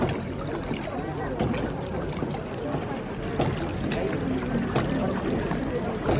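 A boat out on a lake, a steady wash of water and motion noise filling the background while someone talks over it.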